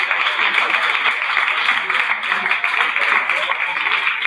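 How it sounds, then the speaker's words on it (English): Crowd applause in an athletics stadium as women's 800-meter runners walk to the start line at a club meet in Rome, a continuous wash of clapping heard beneath a commentator's voice. "That round of applause you might be hearing as the women's 800-meter runners walk into the start line"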